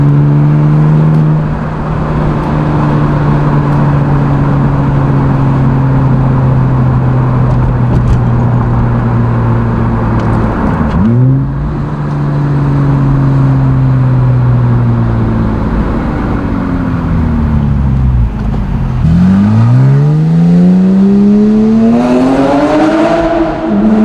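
A Porsche Cayman fitted with a Fabspeed Super Cup exhaust drives on the road, its loud engine note rising and falling through repeated revs and shifts, with a sharp drop near the middle and a hard climb toward the end.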